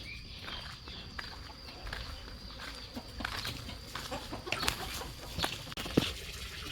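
Chickens clucking inside a chicken coop, faint and somewhat distant, with scattered short clucks and rustling over a low background.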